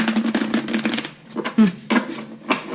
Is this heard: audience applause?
no